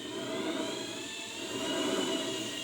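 A Sibo B5 dough mixer runs under test, giving a steady, close motor whir with a high whining tone that swells slightly partway through and continues without a break.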